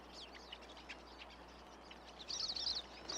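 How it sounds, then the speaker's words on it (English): Finches chirp faintly at a thistle feeder, giving thin, high twitters in scattered bursts that grow a little livelier near the end. "The select clientele that regularly flock to thistle feeders include goldfinches, house finches, purple finches, and in winter, common redpolls."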